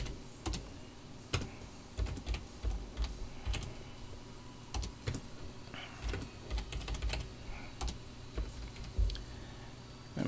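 Keystrokes on a computer keyboard come in irregular bursts of sharp clicks with short pauses, typing out text for a menu in an Inkscape drawing, close and moderately loud with no voice over them.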